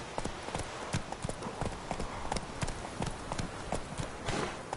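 Hooves of a horse galloping in The Witcher 3 pound in a fast, uneven rhythm of sharp close thuds, loud and continuous over a rushing ambient bed.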